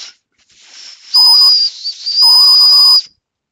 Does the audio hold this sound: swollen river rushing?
no